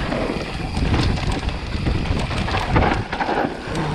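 A thunderstorm with strong wind buffeting the microphone, dense rain-like rustle and low rumbles of thunder, loud and continuous with no voices.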